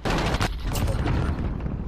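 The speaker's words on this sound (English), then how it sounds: "He just shot a rocket" Rocket fired in Modern Warfare 2019, a loud burst with a sharp crack near the start and a booming blast rolling through the rest, mixed with other gunfire noise.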